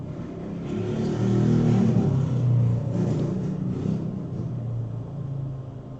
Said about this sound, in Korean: 밖에서 지나가는 오토바이가 잡음을 일으키네요.